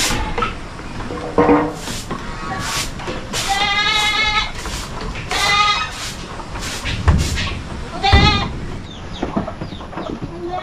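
Goats bleating repeatedly nearby after heavy rain, several loud wavering calls in irregular succession, with some clucking fowl in the background.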